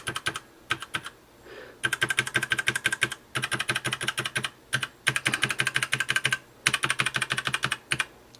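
Rapid clattering keystrokes on a Motospeed CK101 RGB mechanical keyboard, close and loud, in bursts of quick repeated presses broken by short pauses, with no talking.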